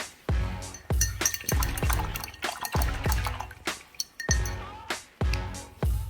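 Paintbrush rinsed in a small container of water for paint by numbers: a run of about a dozen sharp taps and clinks against the container with light splashes, close and evenly spaced, with no talking.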